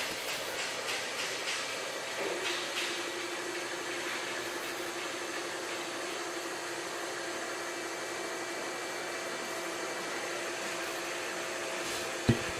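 A CNC machine running under LinuxCNC with a ball-shaped tool gives off a steady, even whir that stays constant throughout, at moderate to low level, with no talking.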